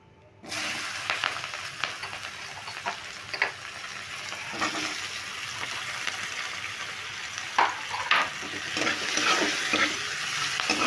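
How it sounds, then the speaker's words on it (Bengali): Small chopped onions sizzling in hot oil in a pan, a steady frying hiss broken by repeated scraping clinks of a spatula stirring, continuous and close with no talk. "পেঁয়াজটাকে একটু নেড়ে হালকা করে ভেজে নেব"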